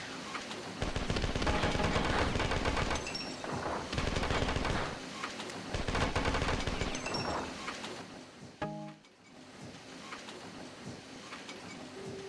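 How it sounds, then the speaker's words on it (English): Assault rifle gunfire in a video game: sustained loud automatic bursts in several long strings, with brief pauses between them, then a clatter and quieter game ambience at the end. "finally giving me the actual assault rifle"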